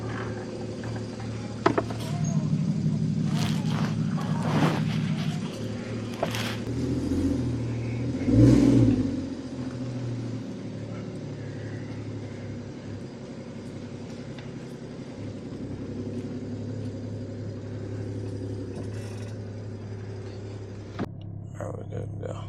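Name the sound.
Porsche Cayman engine revving on a drive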